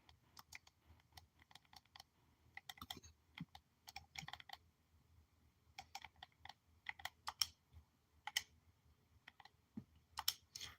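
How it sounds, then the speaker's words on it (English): Typing on a computer keyboard in quick, irregular clusters of soft clicks and key taps, close and fairly quiet, with short pauses between bursts. "I gotta type in Biollante"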